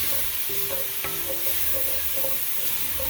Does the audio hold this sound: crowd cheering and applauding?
no